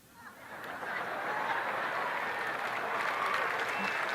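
Clapping swells from a crowd at a political rally, starting quietly and building into steady, sustained applause from a distance, with faint voices and laughter mixed in.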